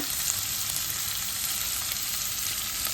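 Dried Maldive fish frying in a pan with banana blossom, salt and green chilli, giving a steady, close hiss of oil sizzling without pause and no voices.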